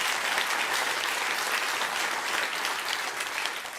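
Studio audience applause fills the space as a dense, steady wash of many hands clapping, loud and sustained throughout with no voices over it.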